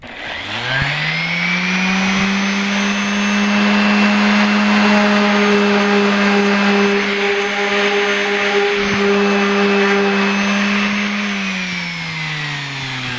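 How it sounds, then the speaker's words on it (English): An electric sander runs steadily on the edges of a table being refinished, a loud, even motor whine that starts, holds for several seconds and winds down at the end. "Now when I do the edges with the electric sander, you have to be really careful around the corners."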